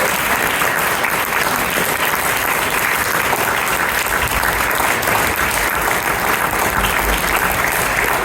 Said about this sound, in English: They will please join me in giving them another round of applause.